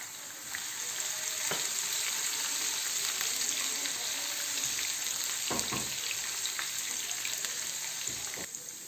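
Whole cumin seeds and cut green chillies sizzle loudly and steadily in hot oil for chana and masoor dal, a dense near crackle with a few spoon scrapes against the pan.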